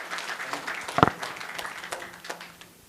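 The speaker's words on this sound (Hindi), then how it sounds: "इनका तालियां बजा के स्वागत होना चाहिए" Audience applause welcoming a guest at a public program, moderate scattered clapping with one sharp louder clap near the start, fading out toward the end.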